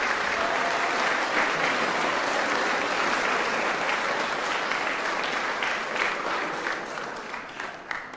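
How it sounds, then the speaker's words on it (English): An audience at a school Christmas concert applauds the choir, a dense, sustained wave of clapping from a large crowd that thins slightly toward the end. "Let's give another round of applause to the choir."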